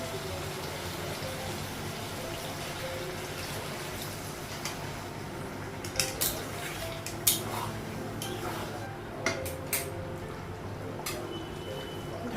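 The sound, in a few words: cooking pot lid being lifted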